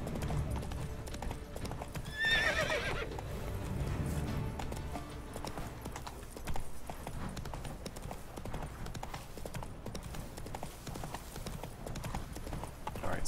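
Roach, Geralt's armored horse in The Witcher 3, clip-clops along at a steady gait with a brief whinny early on, set against a dense ambient game soundscape.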